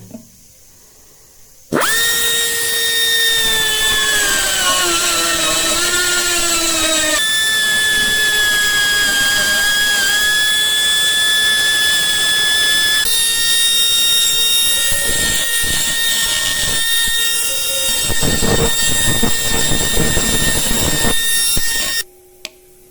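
A power tool cuts a recess into a granite relief carving of a tombstone, giving a loud, steady, high-pitched whine with ringing overtones. The pitch sags briefly under load, then holds for about twenty seconds before it abruptly stops. No voices.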